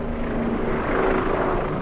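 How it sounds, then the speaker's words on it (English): A helicopter passes overhead above a cricket ground in Sydney, its loud, steady rotor and engine roar filling the air without break. "it is a helicopter. Looking for traffic somewhere."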